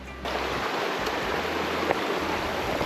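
Water in a creek on a mountain hiking track rushes over rocks as a steady, close hiss that continues without pause and has no talking.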